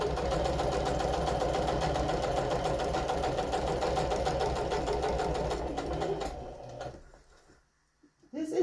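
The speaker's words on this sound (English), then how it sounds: "I am going to use the biggest stitch I have on my sewing machine" Sewing machine running at its longest stitch length through two pieces of vinyl, a steady close mechanical whir for about six seconds that slows and stops, followed by near silence and a small clunk.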